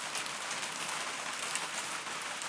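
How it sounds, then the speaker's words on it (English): Rain mixed with hailstones pelting down outdoors on a bad-weather day in Luton, UK, a steady dense hiss of drops hitting surfaces, close and continuous with no voices. "We're getting rain."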